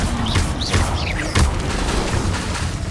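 Fiery spell bursts in Hogwarts Legacy: a few sharp whooshing blasts and booms, close and loud, over a continuous rumbling game background.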